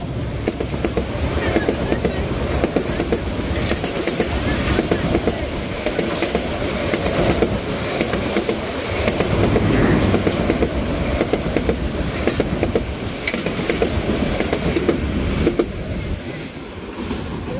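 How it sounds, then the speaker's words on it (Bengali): Dhaka-bound Lalmoni Express intercity train races past at speed, a loud, continuous roar of rumbling wheels and clatter that holds for many seconds before easing slightly at the end. "লালমনি এক্সপ্রেস অসাধারণ গতি নিয়ে ছুটে যাচ্ছে লালমনি এক্সপ্রেস।"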